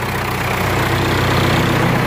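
A John Deere tractor engine idles after a cold start, its steady low diesel rumble running loud and close without a break, with no talk over it.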